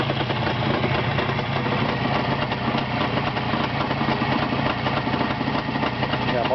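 A motor drones steadily and loudly nearby, a continuous buzzing engine hum with no change in pitch.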